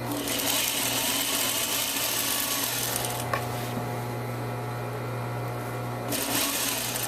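A sewing machine stitches a seam in one steady, continuous motor whir with a fine, fast needle rhythm. It runs loud and close for nearly the whole stretch, with a brief change in pace partway through.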